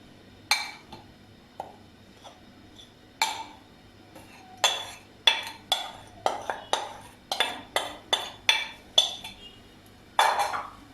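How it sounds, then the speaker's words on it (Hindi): A metal spoon stirs milk and sugar in a cooking pot for a chocolate ball sweet. It gives a string of close, quiet clinks and scrapes against the pot at an uneven, quickening pace. "इसमें दूध डालेंगे, चीनी डालेंगे"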